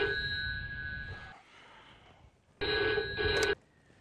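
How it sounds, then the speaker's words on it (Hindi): A telephone rings in two bursts of bright electronic trilling separated by a short pause, close and clear with no talk over it. "हो सकता है कोई जरूरी फोन हो।"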